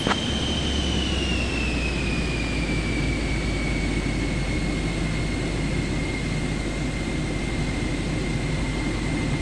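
An aircraft engine roars steadily during takeoff in Microsoft Flight Simulator 2024. The drone is continuous and loud, with a high whine that slides slightly downward.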